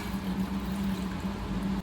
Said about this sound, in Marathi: पाणी घालते याच्यात थोडं